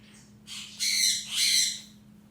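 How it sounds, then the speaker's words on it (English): A bird gives two long, harsh squawking calls in close succession, fairly loud and near, over a low steady hum. "that's when the birds like to call you in, check on you, make sure you're around"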